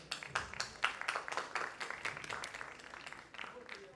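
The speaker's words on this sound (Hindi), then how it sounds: "विनोद जी के लिए जोरदार तालियां" Scattered applause from the audience at a staging of the play Andher Nagari Chopat Raja, fairly faint with separate claps and a host's voice speaking over it.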